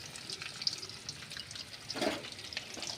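Dried red chillies frying in hot oil give a faint, soft sizzle and crackle, quiet and steady with a slight stirring clatter, and no talking.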